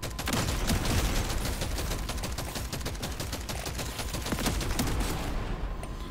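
Dense, continuous gunfire from Deep Rock Survivor, rapid overlapping shots and bursts blending into a steady loud barrage throughout, with no talk.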